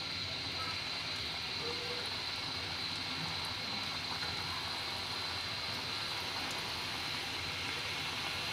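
Jal moshla pitha deep-frying in hot oil, a steady broadband bubbling sizzle with a faint high whine, continuous and even throughout.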